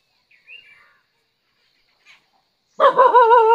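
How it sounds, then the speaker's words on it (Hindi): Two playing dogs in the Simlipal Tiger Reserve let out a loud, drawn-out, wavering bark or yelp at the end, after a stretch of near silence broken only by faint chirps. "ये दोनों कुत्ते खेल रहे थे"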